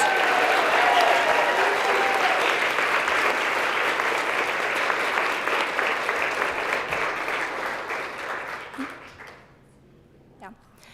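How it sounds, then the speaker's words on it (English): Audience applause for nominees at a student employee of the year ceremony, a full, steady round of clapping that tapers off and fades to near silence at the end. "So one round of applause for all of our nominees."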